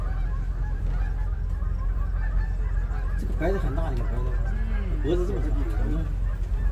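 Snow geese honk loudly in a cluster of calls over a steady low rumble, with faint talk in the background.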